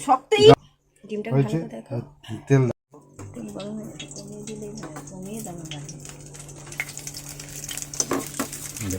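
A frozen egg fries in hot oil in a home kitchen, a steady soft sizzle carrying on beneath people talking, with occasional clinks of a utensil against the pan.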